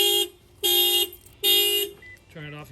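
A factory car alarm on a 2021 Toyota Corolla with an add-on shock sensor sounds loud repeated horn-like blasts, three long tones in a row followed by a shorter warbling tone, close and alone.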